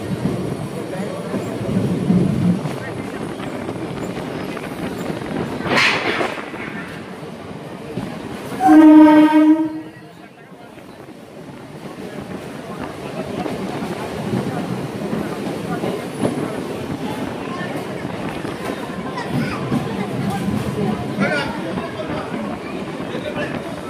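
A Howrah local train at a station platform, steady rumbling rail noise throughout with a loud horn blast around the middle, surrounded by station bustle and occasional voices.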